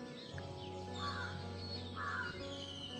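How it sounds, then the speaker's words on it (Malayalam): Crows caw outdoors in a peaceful setting, two or three drawn-out calls at moderate distance over a steady low hum, with no talking. "കിളികളുടെ ശബ്ദം കേൾക്കുന്നുണ്ടോ?"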